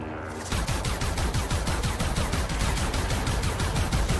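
Far Cry 5 gameplay gunfire cracks out in a sustained automatic burst, a fast and evenly spaced volley of loud shots that runs without a break after a brief quiet start.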